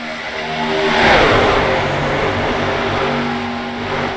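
Racing truck engines in a sim racing video game drone together from a pack of twelve trucks, a loud layered roar that swells and fades as they pass.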